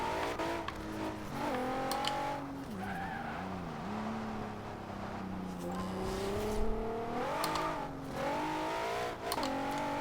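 A Maserati Ghibli S in Forza Horizon 2 revs steadily at part throttle in fourth gear, its engine tone rising and falling, with bursts of wheelspin and tire squeal coming out of a corner onto a straight.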